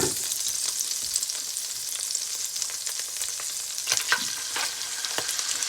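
A venison steak fries in a pan over medium heat, giving a steady, close hiss of sizzling fat with small crackles and pops throughout and no talking.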